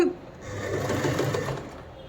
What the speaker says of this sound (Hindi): देखिए मैं ऐसे ही सिलाई मारती हूँ और वो ऐसा हल्का सा छोड़ती हूँ।